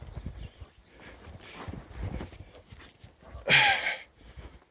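Horse hooves clip-clop faintly on a hill walk at Roseberry Topping in North Yorkshire, a few soft uneven steps in open air, with a louder brief rustle or snort standing out near the end.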